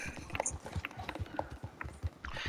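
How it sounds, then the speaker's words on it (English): Horse hooves clip-clop in a steady trotting rhythm as a rider steers the mount in tight circles in the Western game Red Dead, each hoof strike crisp and close with faint background ambience. "Doing donuts with horses is a little odd,"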